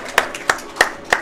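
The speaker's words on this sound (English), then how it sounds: "Let me get a round of applause." Four sharp hand claps spaced evenly apart at a Mortal Kombat XL tournament, close and fairly loud, like a small, sparse round of applause.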